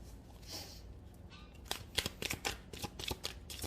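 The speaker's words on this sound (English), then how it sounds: "I'm gonna go ahead and pull some more cards" Tarot cards are shuffled close by. After a soft, quiet start comes a quick run of crisp riffling flutters and light slaps.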